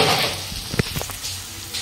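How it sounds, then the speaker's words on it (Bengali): Chicken pulao ingredients frying in refined white oil in a pan, a soft steady sizzle with a few brief stirring scrapes and clinks, close and moderately quiet, no talking. "এটা রিফাইন তেলে ভাজা হচ্ছে"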